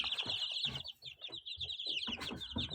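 Chickens and young chicks with emerging feathers cluck and chirp in a steady, busy chorus close by, with bright peeping calls layered over lower clucks throughout.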